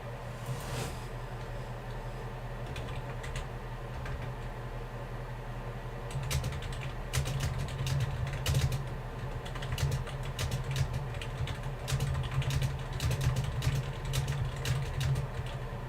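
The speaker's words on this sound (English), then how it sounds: "I keep on hitting buttons on my stupid keyboard." Keys tapped on a computer keyboard, soft irregular clicks over a steady low hum, growing busier and denser in the second half, with no talk.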